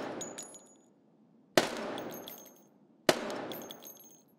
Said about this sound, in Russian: Попробуем стрельнуть.